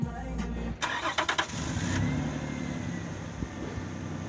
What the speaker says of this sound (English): I think you can hear the engine